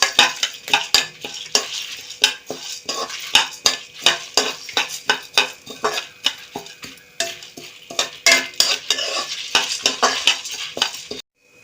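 White sesame seeds are dry-roasted in a pan for moringa leaf powder, stirred with rapid rhythmic scraping strokes over a light crackle, close and fairly loud, ending abruptly.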